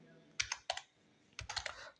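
Java code being typed on a computer keyboard: two short clusters of crisp, close key clicks separated by a brief pause, with faint background hiss.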